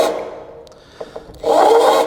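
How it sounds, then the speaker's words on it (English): A close whirring drill pre-drills a hole into drywall in a short burst, with scraping and a few light taps before it spins up. "I'm just going to go ahead and pre-drill real quick"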